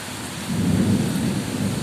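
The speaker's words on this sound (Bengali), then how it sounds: "আপনার বজ্রের গর্জন শুনুন" Thunder rumbles low and close through a spring nor'wester rainstorm, swelling midway over a steady wash of rain.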